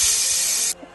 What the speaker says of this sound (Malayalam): ഒരു കുക്കറിൽ 2 വിസിലടിക്കണം